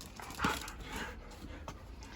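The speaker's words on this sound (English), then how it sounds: "Dogs." Dogs panting in a garden in early spring, a steady close breathy rhythm with a brief louder burst near the start, no talking.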